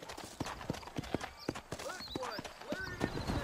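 Horse hooves clop in a quick, even rhythm as riders head out of town in the Red Dead Redemption video game, with a voice talking over the hoofbeats.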